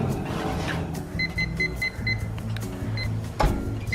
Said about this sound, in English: The timer is currently going off.